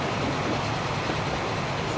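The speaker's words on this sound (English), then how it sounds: "Let's see if we can catch up to this train." A train in the Transport Fever video game rolls past with a continuous loud rumble and rattle of wheels on rails, steady throughout and with no voices.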